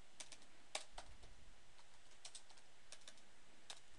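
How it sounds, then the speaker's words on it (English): Typing on a computer keyboard, a faint run of irregular key clicks at steady pace with one sharper tap, heard alone over a quiet background hiss. "I'm making you watch me type"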